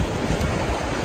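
Wind buffets a microphone by the sea, a brief, dense roar mixed with surf and no voices.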